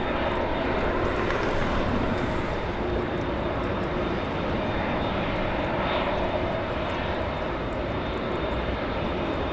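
A Korean Air Airbus A380 bound for Seoul roars past at LAX, its four jet engines a loud, steady broadband rumble that holds for several seconds with no talking.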